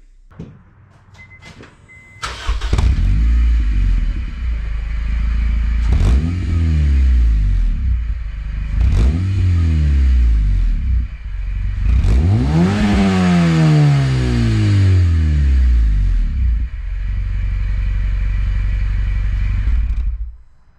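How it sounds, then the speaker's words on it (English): Modified exhaust on a BMW R18 motorcycle: after a quiet start the engine fires up and is blipped in several rising revs, the last one longest, then settles to a fairly mellow idle, close by with no voices. "So we get you a quick exhaust clip."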